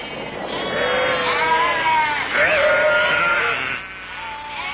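Several sheep bleat loudly and close by, overlapping wavering calls rising and falling against a noisy outdoor background.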